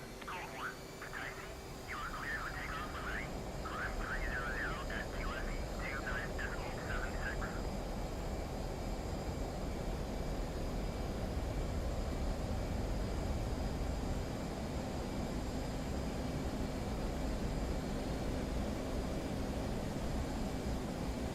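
F/A-18C fighter jet engines spooling up for takeoff in a flight simulator, a loud, steady broadband roar filling the whole stretch, with a brief burst of warbling tones early on.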